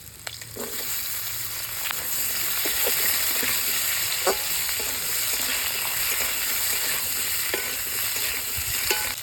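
Potatoes and eggplant sautéing in hot oil in a pan for a Bengali magur fish curry, a steady close sizzle with occasional stirring scrapes and small pops, no talk.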